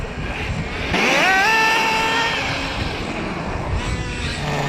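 A nitro RC car with a vintage OS engine nearly 20 years old revs sharply upward close by, its buzzing whine climbing in pitch, then settles into a steady rasping drone.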